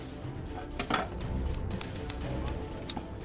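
Plates and cutlery clink and scrape as someone eats, with a steady run of light metallic taps and knocks against dishes, close by and fairly quiet, with no talk over it.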